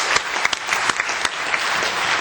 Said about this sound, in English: I want a big clap.